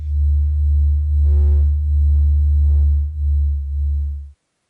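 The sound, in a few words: NASA compressed recording of the sound of the sun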